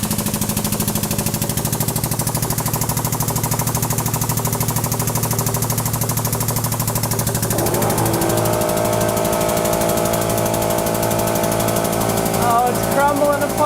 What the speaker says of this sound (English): Japanese aluminum foil ball in the hydraulic press